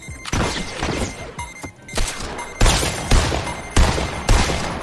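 Gunshots in a first-person video game, a series of sharp, loud cracks at irregular intervals, about eight reports with quieter rumbling between them, close and forceful.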